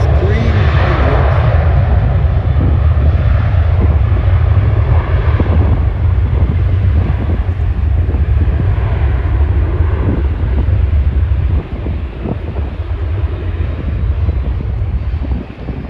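Boeing 737-800 jet engines roaring at Schiphol airport, a loud, sustained low rumble and roar with heavy wind buffeting on the microphone throughout.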